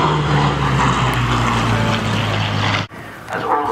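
Second World War propeller aeroplane flying at an air display at Shuttleworth, its engine a loud, steady roaring drone that cuts off abruptly near the end before resuming more faintly.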